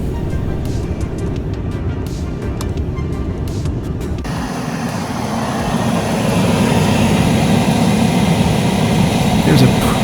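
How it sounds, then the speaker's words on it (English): A Mercedes CLK's air conditioning blower runs inside the car cabin, a steady rushing whoosh that grows stronger and fuller partway through, staying continuous and close throughout. "There's a pretty powerful fan in there"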